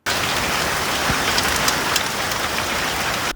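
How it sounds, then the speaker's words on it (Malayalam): Heavy rain pours steadily onto surfaces in a dense, even hiss. It continues unbroken from start to finish with no distinct thunder. "സംസ്ഥാനത്ത് ഒറ്റപ്പെട്ട ഇടങ്ങളിൽ ഇടിമിന്നലോട് കൂടിയ മഴയ്ക്ക് സാധ്യത"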